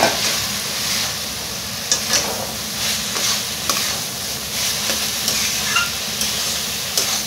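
Pre-fried soybeans stir-fried into oily, well-cooked spice masala produce a loud, continuous close sizzle and hiss, broken by periodic scraping knocks of a spatula in the pan.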